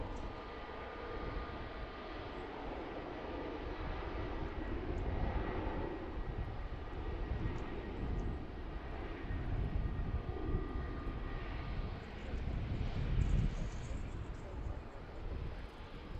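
A CRJ regional jet arriving at Washington National airport, a broad, steady jet roar heard at a distance that swells slightly and holds for a long stretch amid outdoor ambience.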